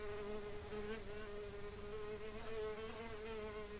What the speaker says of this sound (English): Including this insect that we hear buzzing around.